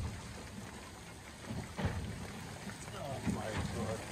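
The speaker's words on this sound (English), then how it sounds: "Look, the rain's starting to slow down a bit now." Rain falls steadily during a fishing outing in Melbourne, a constant wash of hiss with a few heavier bursts, and muffled voices are heard underneath.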